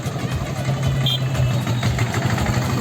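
A Royal Enfield motorbike engine running at a steady idle nearby, a continuous low throbbing rumble with faint outdoor background noise.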